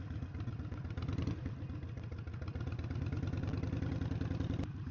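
A Harley-Davidson Sportster motorcycle with an air-cooled engine runs steadily at close range, a continuous loud rumble with mechanical clatter and no speech.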